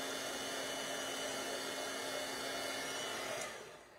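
A handheld heat embossing tool blows hot air in a steady, loud whoosh while embossing a Stampin' Up card, holding constant before dropping off at the end.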